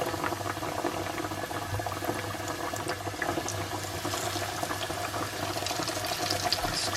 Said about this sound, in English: So whilst the chicken is frying now